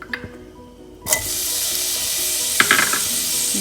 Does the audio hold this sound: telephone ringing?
no